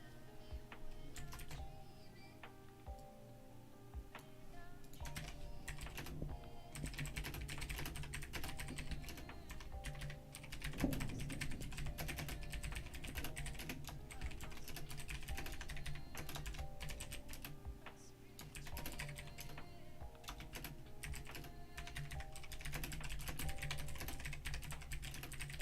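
Steady, dense clatter of keystrokes on a computer keyboard runs through the whole stretch, fairly loud and close, over a constant low background hum, with no talking.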